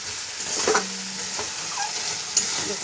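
Chicken being stirred and sautéed with spices in oil, kosha style, a steady close sizzle broken by a few scraping stirs and a brief clink, with no talking.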